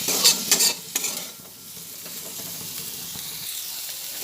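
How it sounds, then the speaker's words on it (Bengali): Potatoes frying in oil with turmeric and salt, being stirred in the pan: a steady sizzle with scraping spatula strokes that are louder over the first second, then a continuous hiss with no talking. "নুন দিলাম দুটো দিয়ে আলুটাকে আবার ভালোভাবে ভেজে নিচ্ছি"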